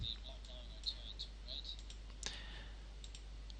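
A couple of soft, close computer mouse clicks, brief and quiet against a low electrical hum, with faint background sounds in between.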